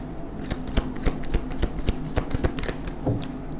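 Tarot cards are shuffled and drawn by hand, a close, busy stream of crisp riffling flicks and slaps in an uneven rhythm.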